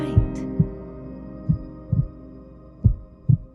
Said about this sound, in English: you drift off to sleep to the sound of his heartbeat